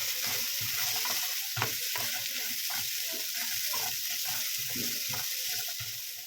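Fried idli pieces are stirred through a sizzling mixture in a pan, with a steady hiss of frying under repeated scraping and stirring strokes.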